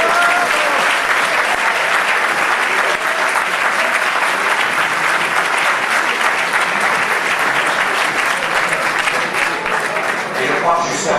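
An audience at a 2007 aeroclub gathering applauds steadily and loudly for the full stretch, the dense clapping holding an even level from start to finish.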